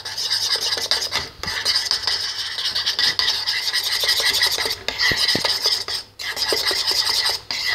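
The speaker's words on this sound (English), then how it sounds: "just stir that up" Thickening homemade slime is stirred in a container, producing close, loud, rasping scrapes in continuous strokes broken by a few brief pauses.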